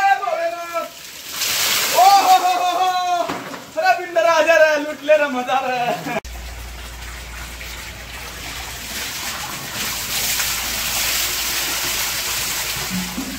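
Cold water splashes and pours continuously nearby as someone bathes, heavy and close, while someone talks loudly over the first half.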